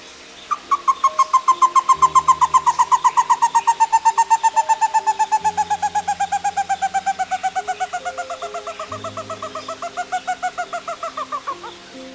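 A rare Brazilian humid lowland forest bird gives a long, even series of rapid hooting notes, loud and clear, slowing slightly and dipping in pitch before a short final burst, with faint lower tones beneath.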